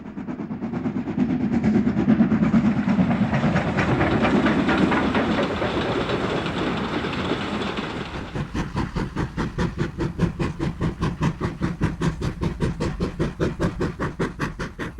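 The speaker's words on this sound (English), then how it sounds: "Another lengthy rake leaves the British Rail Exchange sidings." A train hauling a long rake of wagons out of the British Rail Exchange sidings, first a heavy rolling rumble, then a loud, fast, regular clickety-clack of wheels over rail joints.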